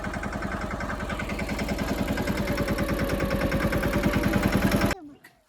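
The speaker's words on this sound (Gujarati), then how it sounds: "હાલો ટ્રેક્ટર હાલી ગયું" Tractor engine running on a farm, a steady rhythmic low diesel chug that builds slightly in loudness, close and continuous, then cuts off abruptly near the end.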